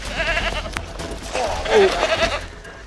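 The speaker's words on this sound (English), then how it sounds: "Chris has been unable to effectively sedate a wild and woolly Barbary sheep" A wild, woolly Barbary sheep at Halls Gap Zoo bleats loudly during a struggle to sedate it. A short, strained cry rises out of steady scuffling and handling noise, close and fairly loud.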